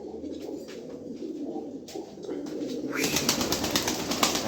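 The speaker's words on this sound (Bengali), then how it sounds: "বিশাল সাইজের এক জোড়া কবুতর।" A pair of large pigeons coos steadily at close range, the soft throaty calls running continuously and growing denser and louder near the end over a faint background hiss.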